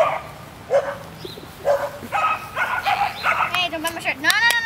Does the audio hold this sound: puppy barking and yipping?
yes